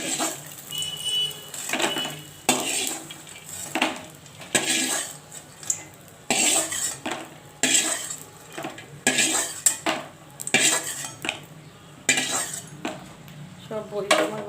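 Fried lentil dumplings (bori) lifted from a pan in a home kitchen, with metal utensils repeatedly clattering and scraping in short, irregular bursts, close and fairly loud, no talking.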